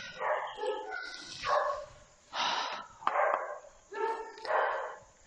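A dog barks in an old abandoned warehouse, a series of about six gruff, breathy barks in uneven bursts, fairly close with short pauses between them.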